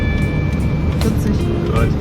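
A car drives steadily at moderate speed, recorded from a camera mount on the vehicle, with a constant low road and engine rumble. A person's voice speaks over the noise.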